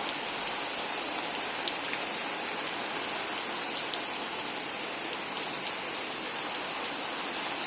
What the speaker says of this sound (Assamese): আমাৰ ইয়াত বৰষুণ পৰি আছে, এয়া বৰষুণ দিছে